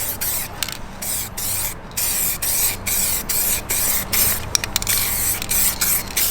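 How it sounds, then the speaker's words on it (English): Steady hiss of a spray gun in short repeated bursts, broadband and close, with brief pauses between passes, spraying anthracite grey paint on an alloy wheel of a Mk2 Ford Focus ST. "when we spray the anthracite grey, it's got a much darker finish to it"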